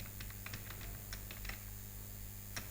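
Code being typed on a computer keyboard, quiet close-up key clicks in quick irregular bursts over a faint steady hum, no voices.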